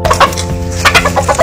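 A featherless chicken clucks loudly and close by in a series of short, repeated calls, alone with no talk.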